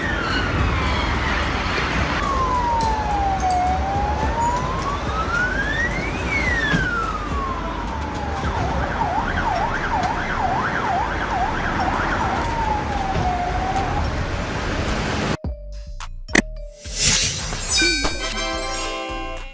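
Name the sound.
doctor car emergency siren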